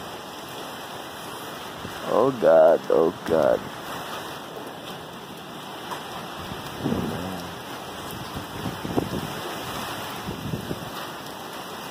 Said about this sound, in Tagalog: Naririnig mo siguro guys yung ano no? Huni ng hangin.